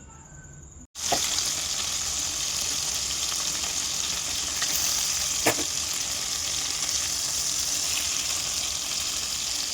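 Skewered food frying in white oil in a wok: a dense steady sizzle starts abruptly after a brief quiet moment and carries on close and loud, with a couple of sharp pops.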